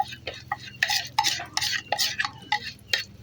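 Eggs frying in a pan with a utensil scraping and clinking against the metal, a run of uneven close stirring scrapes and taps with no talk.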